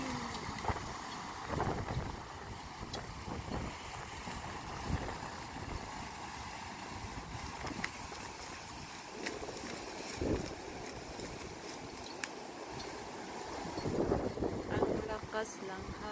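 Strong gusts buffet the microphone throughout with a continuous, roaring rumble in a sunny, windy outdoor setting, and voices speak faintly beneath the noise.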